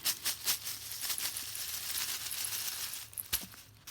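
Small charms shuffled and tumbled together for a reading, producing a run of clinking, rattling taps close by, busiest at the start and ending in a few sharper clicks.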